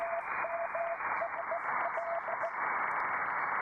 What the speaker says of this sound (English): It changes the sound of the white noise.